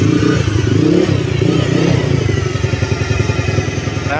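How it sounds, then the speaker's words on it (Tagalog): A loud Honda Click scooter engine runs close by, its aftermarket exhaust putting out a rough, throbbing idle with a steady pulsing rumble and no talking. "Mahingi yung makina, nagpahingi lalo yung kanyang tambutso"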